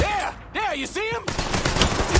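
A rapid burst of gunfire from Mafia III breaks out partway through and keeps going, following a stretch of loud, sweeping whine-like tones with no speech.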